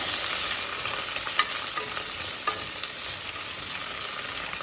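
Sliced onion sizzles steadily in a hot pan with a few soft scraping stirs, a constant broadband frying hiss close by and alone.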